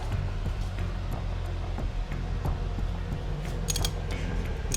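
A wrench working on bolts of a BMW E38 with about 500,000 km, giving steady close mechanical ratcheting and creaking clicks over a constant low hum.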